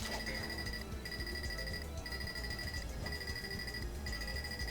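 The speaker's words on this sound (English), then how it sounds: "It's like an alarm clock that keeps starting and stopping." Low-time warning from a video game, a repeating electronic beep pattern like an alarm clock that plays in bursts of roughly a second and stops briefly, steady and moderately loud over background game noise.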